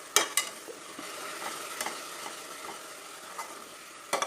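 Coconut and jaggery are stirred together in a hot pan. A soft sizzle runs underneath, broken by several sharp scraping taps of the spoon at irregular moments.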